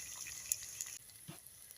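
Onions and green chillies fry in hot oil for a tempering, a faint, steady high sizzle with a soft stir or bump near the end.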